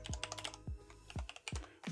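Keys tapped on a computer keyboard while entering values into Ren'Py game code, a quick uneven run of close, fairly loud keystrokes with small gaps and a few heavier thumps.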